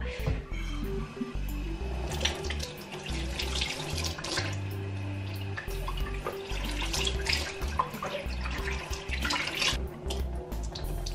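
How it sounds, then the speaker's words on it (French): Running tap water splashing continuously over hands and face at a bathroom sink during an evening skincare routine, fairly close and steady with irregular splashes throughout, no talking. "je viens rincer à l'eau"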